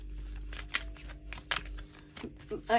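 Lovers Oracle cards being shuffled for a reading, heard as a series of crisp, close riffling and slapping bursts, each separate from the next, with brief gaps between them.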